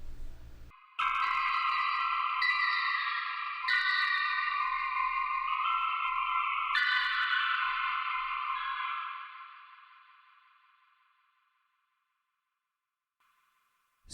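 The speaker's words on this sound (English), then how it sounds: "So that's the sound of the torture being done in hell." Horror sound effect meant as tortured people screaming in hell, built as a preset in FL Studio: a loud, sustained synthetic tonal wail with layered harsh overtones, shifting in steps and then fading out slowly into silence.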